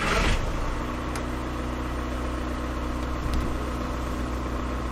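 A van engine runs steadily at a low, even pitch to power the alternator, a close, continuous hum with no speech.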